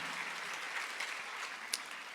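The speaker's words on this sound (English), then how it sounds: "You guys, that's a good time to applaud" Audience applause for winners at a teachers' awards ceremony, a steady dense wash of clapping throughout with one sharper clap standing out near the end.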